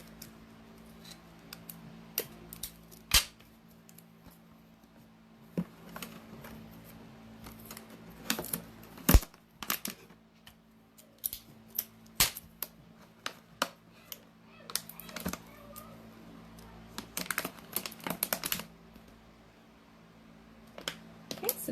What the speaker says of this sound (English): Those are going to go along the bottom of my bottle for the wheels. I'm going to go ahead and tape them there.